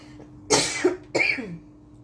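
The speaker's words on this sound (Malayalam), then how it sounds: "ചുമ വന്നിട്ട് മാറുന്നില്ല" Two sharp, close coughs in quick succession, each a harsh burst with a short pause between, in an otherwise quiet room.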